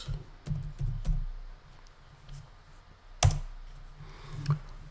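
Typing on a computer keyboard, close and fairly quiet: a few scattered key clicks, a brief burst of taps, then a sharper clack and some more light keystrokes.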